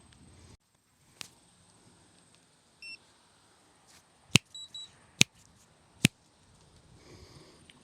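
A few short, high electronic beeps from a Firefly X Lite 2 FPV camera sound amid sharp clicks and taps, spaced irregularly over a quiet background.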